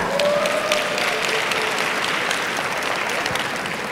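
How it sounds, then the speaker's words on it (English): Luncheon audience clapping steadily, a dense even wash of applause from a large room, with a brief voice near the start. "give yourselves a hand clap"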